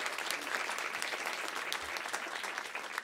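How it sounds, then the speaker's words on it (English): An audience in a hall applauds steadily, a dense and even wash of clapping that carries on throughout without any voices. "Please, round of applause for her."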